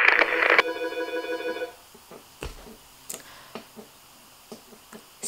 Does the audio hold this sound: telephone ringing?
yes